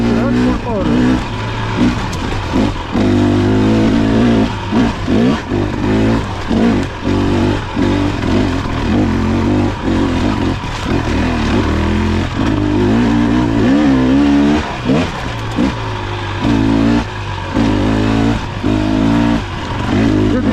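A 2023 KTM 300 XC TBI dirt bike engine revs hard off-road, loud and close, with throttle rising and falling in short bursts over a continuous rough drone.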